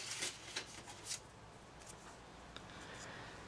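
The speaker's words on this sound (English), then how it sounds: "I'm going to use a bigger pair of scissors to cut this out" Large scissors cut through a paper tag in a few quick, crisp snips near the start, then the soft rustle of paper handling, quiet and close.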